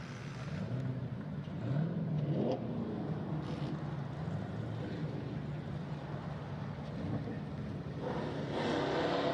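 A Camaro race car running on the Hudson Speedway track at a run-what-ya-brung event, a faint distant engine drone that swells and fades as it circulates, with no voices.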